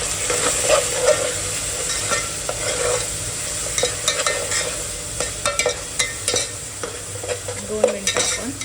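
Ginger-garlic paste fries in a pan with turmeric and biryani masala for a veg pulao, a steady close sizzle broken by scraping stirs and light clicks of the spoon.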